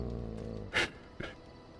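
A war dog in Dragon Age Origins gives a short snap and a growl, two brief sharp bursts over a low game background.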